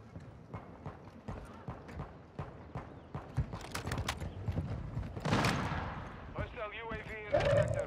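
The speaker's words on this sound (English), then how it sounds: "hear these guys stomping like elephants up there" Footsteps stomp overhead in the video game Warzone 2, a steady run of heavy thudding steps, followed by bursts of gunfire and other game effects near the end.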